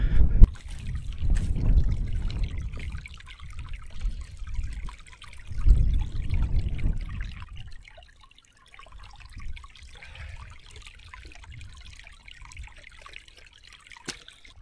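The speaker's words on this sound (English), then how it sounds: "I'm just going to walk up to where there's a little bit cascading down a rock." A small moorland stream in the Peak District on Kinder Scout trickles and splashes down over a rock, a steady close watery wash with low wind rumble, louder in the first half and then settling to a quieter trickle.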